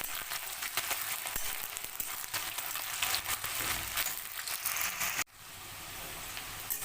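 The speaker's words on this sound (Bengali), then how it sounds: "এবার আমি এর মধ্যে দিয়ে দিচ্ছি পেঁয়াজ কুচি। এটাকে একটুখানি ভালো করে নিই, গোল্ডেন ফ্রাই করে নেব।" Chopped onions fry in hot oil for a spinach chicken dish, giving a steady, bright sizzling hiss that drops abruptly partway through and then continues more quietly.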